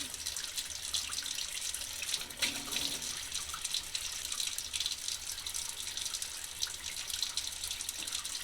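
A tap runs steadily while someone washes stage floor paint off their hands in a paint shop sink. The close, continuous gush and splash has slight surges as the hands move under the stream, and nobody talks.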